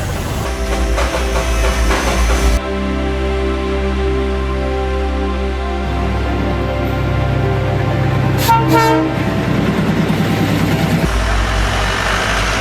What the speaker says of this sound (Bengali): এই হচ্ছে টয় ট্রেনের ইঞ্জিন